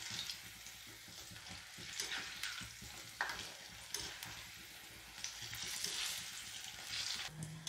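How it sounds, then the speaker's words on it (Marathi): Disco bhaji, a Solapur-style fritter, deep-fries in very hot oil with a dense, bubbling sizzle and crackle that surges and settles over several seconds, with occasional sharp spits and scrapes close by. "एकदम कडक तेलामध्ये आपल्याला ही भजी तळून घ्यायची आहे"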